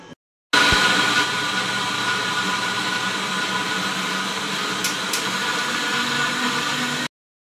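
An electric mixer grinder runs continuously for several seconds, grinding soaked rice and urad dal into idli batter, a loud steady whirring drone that starts abruptly and stops cleanly, with no talk over it.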